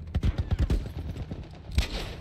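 A machine gun fires in The Last of Us as a quick burst of sharp, rapid shots close by. A few scattered single shots follow, then one more loud crack near the end.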